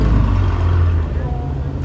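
A 1995 Ferrari 355 GTS sports car engine runs with a steady, loud low rumble throughout, sounding close by, with background voices faintly present.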